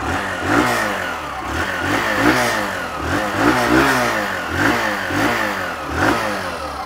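Hero Super Splendor motorcycle engine idling with its exhaust note, a steady, fairly loud throb with a regular pulsing rhythm close by, no voices over it.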